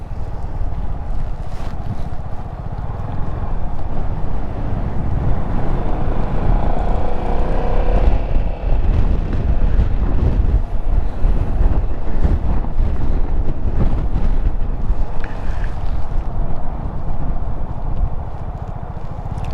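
Strong wind roars and buffets the microphone outdoors, a loud, continuous rumbling gust noise with a few faint thumps mixed in.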